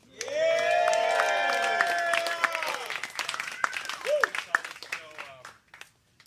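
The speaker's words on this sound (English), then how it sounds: "Round of applause for those guys" A screening-night crowd at a June show-and-tell event applauds the setup crew. Scattered claps mix with whoops and cheering voices, loud at first and then thinning into sparse claps and shouts.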